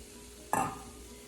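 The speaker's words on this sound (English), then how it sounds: "And then just slowly mix all the ingredients together." A spoon stirs cheese and other ingredients in a pan over a stove on its lowest setting, giving one short, soft scraping swish with a faint sizzle, close and alone.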